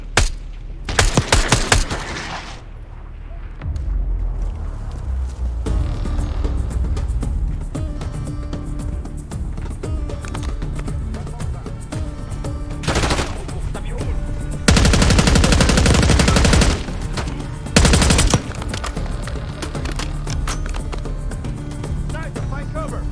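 Sustained automatic gunfire and sharp single shots from a Call of Duty Black Ops 6 campaign battle, with loud bursts repeating in clusters between stretches of ambient combat noise and faint shouted voices.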